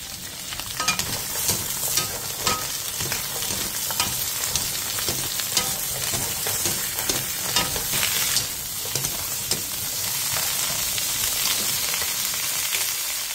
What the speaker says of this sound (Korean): 팬에 기름을 두른 뒤 마늘종과 소금 2분의 1 티스푼을 넣고 센 불에서 2분 정도 볶아주세요.